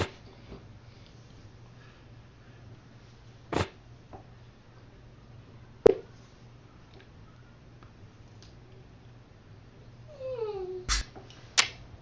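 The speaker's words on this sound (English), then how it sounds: "That's my dog. They're crying." A dog whining and crying indoors, a few short faint whimpers and sharp cries spread across the clip, with a longer run of rising whines near the end over a low steady background hum.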